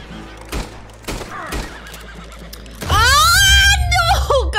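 Loud, shrill horse whinny in the video game Red Dead Redemption 2, a quivering descending cry that follows a few sharp knocks and bangs, with no talk over it.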